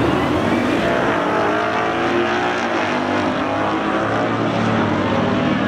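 A Dodge SRT and a Ford Mustang race at Irwindale Speedway, their engines a loud, continuous close roar with rising and falling harmonic whine, briefly swelling near the middle.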